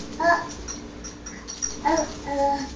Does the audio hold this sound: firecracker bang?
no